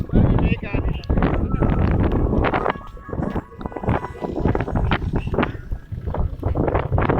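A loud, rumbling tractor engine drones steadily with rattling and buffeting noise, hauling a trolley carrying people over rough ground at night, heard close and continuous from the trolley.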